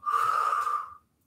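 A single forceful exhale blown out through the lips during a home cardio stretching session, close and breathy with a whistling edge, lasting about a second before cutting off into silence.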